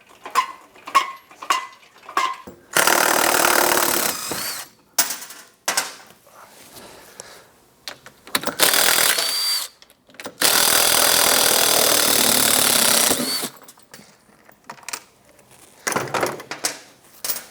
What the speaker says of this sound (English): So we need to lift up the back of the sled and remove the 2 suspension bolts.